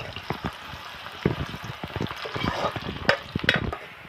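Sliced onions frying in hot oil in a pan as chicken pulao is prepared, with a steady close sizzle broken by scraping stirs and clinks throughout.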